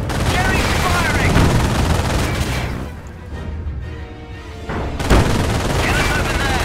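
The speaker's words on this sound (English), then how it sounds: "Jerry's firing!" Enemy gunfire rattles in a Company of Heroes battle on the Langres map: loud bursts of machine-gun fire and booms, a brief lull midway, then heavy firing again.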